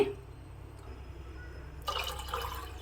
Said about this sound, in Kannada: ನೀರನ್ನು ಹಾಕ್ತಾಯಿದ್ದೀನಿ